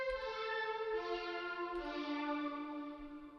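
The Atlantis pad preset from the Void Serum Bank in the Serum synth plays a sustained, bright chord with rich harmonics, shifting pitch in a couple of smooth steps over a faint low pulse, quiet and unaccompanied.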